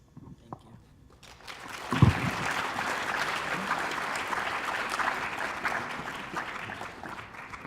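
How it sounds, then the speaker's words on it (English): After a quiet moment, applause swells up from a high school audience for Congressman Joseph P. Kennedy, settling into steady, moderately distant clapping that continues to the end. "Big round of applause."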